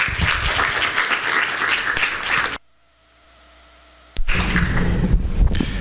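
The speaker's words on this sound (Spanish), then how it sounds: "recibimos a los ponentes con fuertes aplausos" Strong audience applause welcomes the panel speakers at a university round-table book event in Peru, dense clapping that stops abruptly for about a second and a half of near silence, then resumes just as full.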